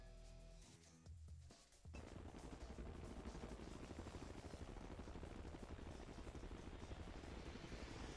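A transport helicopter in the Renegade X video game gives a steady, rhythmic whirring drone that starts after a brief lower-level stretch and runs on at even loudness.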